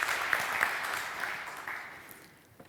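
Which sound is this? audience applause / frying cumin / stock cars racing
audience applause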